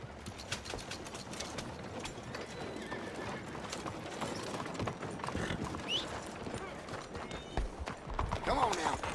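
Horse hooves clip-clop steadily at close range with a busy, rhythmic clatter, a mechanical rattle and a brief whinny, while people talk over them.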